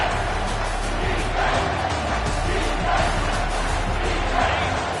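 Loud stadium crowd roar in an American football video game, a steady dense wall of cheering that swells slightly in places and holds throughout, with no clear commentary over it.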